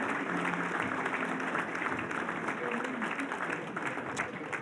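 An audience at a benefit event applauds, a dense, sustained round of clapping that fills the room, with crowd voices underneath.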